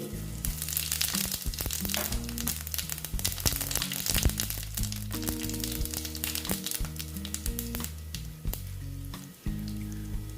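Dried red chili and white cumin seeds sizzle and crackle in hot oil, a dense continuous frying hiss dotted with sharp pops, close and loud throughout, with background music and no speech.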